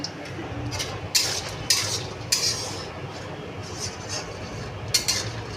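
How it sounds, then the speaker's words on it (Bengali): Lentil dumplings fry in hot oil in a kadai under a low sizzle, punctuated by several sharp metallic clinks of a spatula against the pan at irregular intervals. "এবার বড়িগুলো একে একে দিয়ে ভেজে নেব"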